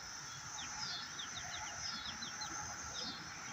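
A rooster clucks softly in a farm setting, a series of short, repeated clucks over a steady outdoor background hum, fairly faint and with no talking.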